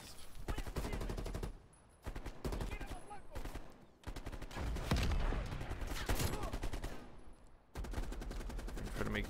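Near-continuous automatic gunfire from Black Ops Cold War rattles loudly in long sustained bursts with brief pauses between them, dense overlapping shots filling the mix.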